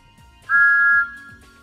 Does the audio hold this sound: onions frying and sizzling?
no